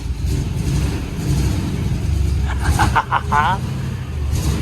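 The engine of an old car, a 1961 Corvette or 1957 Chevy, runs again on fresh gas, a steady mid-pitched rumble under excited voices talking over it.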